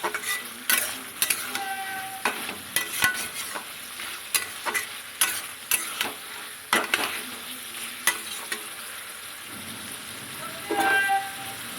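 Fried potatoes and chopped tomato frying in a pan for a snakehead fish and radish curry, with a spatula scraping and clinking in a steady series of stirs over a soft sizzle.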